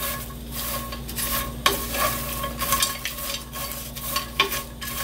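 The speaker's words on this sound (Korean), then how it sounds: "무차는 이렇게 볶으시면 됩니다" Dry pieces of dried radish rustle and scrape as they're stir-roasted in a thick pot over low heat, a soft steady sizzle with occasional clinks of a utensil.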